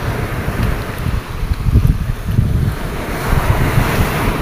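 Open-sea waves washing around a small fishing boat, a continuous rough surge with heavy wind buffeting the microphone, loud and close with no talk.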